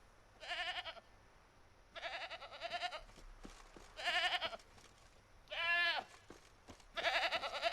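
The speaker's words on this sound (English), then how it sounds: "so we're chasing goats again" Several loud goat bleats from The Witcher 3 video game come in separate bursts with short pauses between them, heard alone over a faint low background hum.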